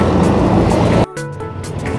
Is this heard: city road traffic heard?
yes